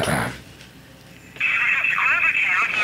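A phone rings out on an unanswered call, a steady ringback tone sounding loud and continuous through the second half after a brief burst of speech at the start.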